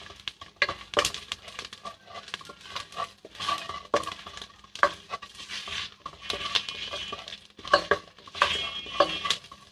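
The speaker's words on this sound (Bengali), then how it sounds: "এখন একটু হালকা নেড়েচেড়ে নিতে হবে।" Whole spices for a potato curry are stirred in a pan, producing close, irregular scraping and clinking of a utensil against metal, with soft crackling patter running throughout.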